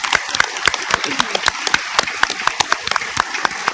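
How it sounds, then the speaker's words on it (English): A small audience at a live-streamed meeting gives a round of applause, with sparse, distinct individual claps ringing out unevenly and fairly close throughout. "let's give them a round of applause"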